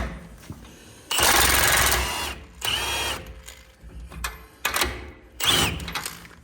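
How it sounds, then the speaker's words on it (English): A wrench with a 21mm socket loosens a nut on a tapered stud during a steering knuckle and tie rod installation, giving several bursts of rough mechanical grinding and ratcheting noise, close and fairly loud, separated by short quieter gaps. "I'm just gonna loosen up this nut in the assumption that the tapered stud is gonna be holding in place"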